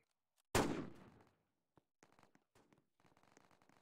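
A single loud sniper rifle shot from a Roblox Fortnite-style shooter game cracks out with a decaying tail, followed by faint scattered clicks and game noises.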